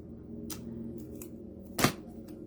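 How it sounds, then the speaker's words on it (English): Scissors snip a piece of black washi tape at a craft table, a few faint light clicks followed by one sharp, close cut. "So I had some black washi tape here. And let's see. I'm just going to cut off a piece"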